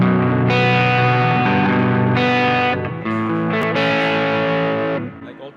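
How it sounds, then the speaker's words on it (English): A PRS Tremonti Baritone guitar plays through a classic rock, Marshall-style amp channel, giving sustained chords with edge-of-breakup distortion. It rings loud and alone, then fades at the end. "amp 2 is more classic rock. So I think this is like a Marshall"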